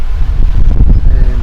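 Strong, steady wind on a sailboat roaring across the microphone, apparent wind about 18 knots gusting to 20, a low buffeting rush with gusty swells and no talking.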